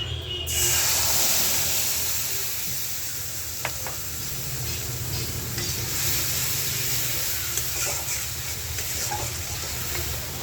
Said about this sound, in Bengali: আমি এখন মশলাটা দিয়ে দিই তেজপাতা আর জিরা গরম হয়ে গেছে